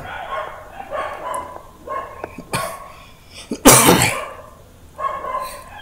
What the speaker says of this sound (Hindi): कुत्तों ने अभी भौंकना स्टार्ट कर दिया है